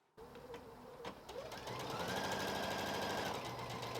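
A Bernette B77 computerized sewing and quilting machine starts up and stitches at speed, a steady, even, close-up whirring hum that holds for several seconds after a few brief clicks.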